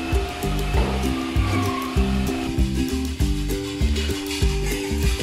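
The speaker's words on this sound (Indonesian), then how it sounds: "kemudian kita vacuum sikit lah habuk-habuk yang jatuh tu" A vacuum cleaner drones steadily as it sucks up fallen dust and cobweb debris from a mouldy wall being prepared for painting, with background music playing throughout.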